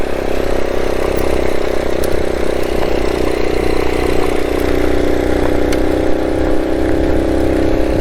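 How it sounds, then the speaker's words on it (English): A small Honda Monkey motorcycle engine idles steadily and loudly nearby outdoors, a continuous low rumbling drone with no revving and no voices. "Wonderful day for a motorcycle ride."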